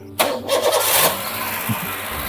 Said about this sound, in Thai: เครื่องยนต์ก็สตาร์ททีเดียวครั้งเดียวติดเลยนะครับ